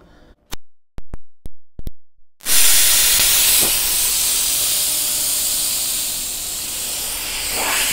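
Air hose filling a tire as it is mounted on a wheel: a few sharp clicks, then a sudden loud, steady hiss of rushing air that carries on without a break.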